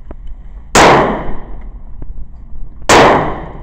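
Two sharp, loud shotgun blasts at a shooting range, each a sudden crack followed by a rolling decay, spaced about two seconds apart, with small metallic clicks between them and no talking.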